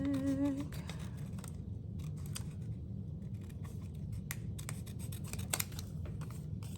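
Scissors trimming paper for a dog-themed scrapbook mini album, a quick series of close, quiet snips and paper rustles without talk.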